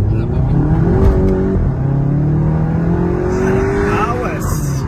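A 300-horsepower VW Golf 7 GTI launches hard with launch control, its engine note rising steadily as it pulls away, loud and close inside the car, with people talking over it throughout.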